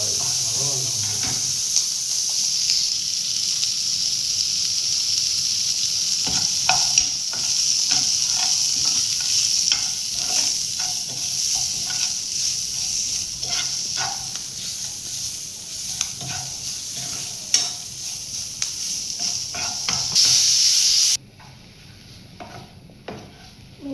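Fish pieces frying in a pan with chili and garlic, a steady bright sizzle with intermittent stirring and scraping clicks, ending in a sudden cut.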